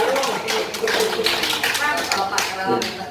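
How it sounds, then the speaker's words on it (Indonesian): Church congregation applauding guests from Karawang, brisk close clapping layered under speech and background voices. "Tepuk tangan buat dari Karawang."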